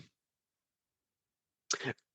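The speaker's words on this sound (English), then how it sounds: "Oh, I'm gonna cough." A single short cough-like burst, close and fairly loud, after nearly two seconds of silence.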